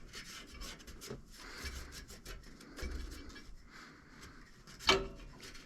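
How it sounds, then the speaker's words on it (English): Scrubbing old gasket material off the engine of a Toro Z Master mower with an abrasive pad: faint, close, irregular scratchy rubbing with one brief sharper scrape near the end, no talk. "it will take some of that gasket material off as you scrub."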